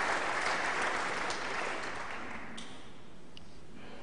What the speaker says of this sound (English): Some of Ding's fans there in the crowd urging him on.